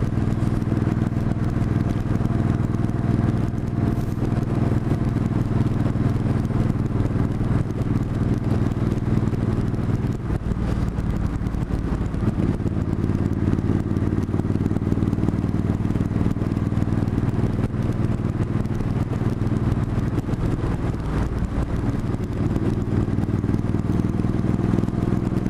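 A Yamaha R1 is ridden on a mountain road near Canmore, its engine droning steadily and continuously under heavy wind rush, with small swells in pitch as the throttle changes.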